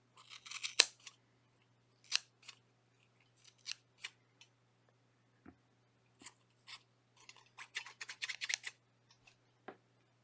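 Scissors snipping the yarn tassel of a crocheted shawl, sharp close snips scattered irregularly, then a quick cluster of cuts near the end, quiet with a faint steady hum underneath.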